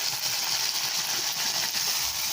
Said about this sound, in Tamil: தக்காளி வந்து கொஞ்சம் நல்லா வதங்கி வரணும், அது வரைக்கும் நல்லா வதக்கிக்கலாம்.